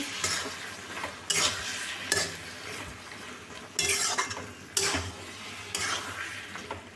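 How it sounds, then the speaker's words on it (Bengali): Tomato chutney in a pan is stirred in repeated scraping strokes with a spatula after the lid comes off, several bursts of scraping and soft sizzle close by, with no talking. "আবার ঢাকা খুলে নেড়ে নিচ্ছি"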